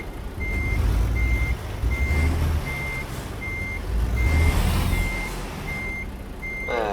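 Reversing beeps sound from a truck in American Truck Simulator: an even series of about ten clear, evenly spaced tones over a low, rumbling diesel engine.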